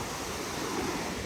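Strong ocean surf at a windy beach in Barra Velha, Santa Catarina, a dense, continuous roar of crashing waves mixed with wind noise, loud and close with no voices.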